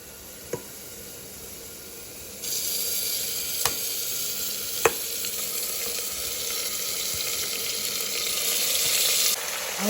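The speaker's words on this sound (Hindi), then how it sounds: "तो हमारी प्याज गोल्डन ब्राउन हो चुकी है। अब हम क्या करेंगे, इसके अंदर जो मैरिनेट करे वाला मटन है डाल देंगे।" Marinated mutton sizzles in a pan with golden brown onions for keema biryani, a steady broadband frying hiss that jumps louder partway through, with a few sharp clinks of a spoon on the pot and no talking.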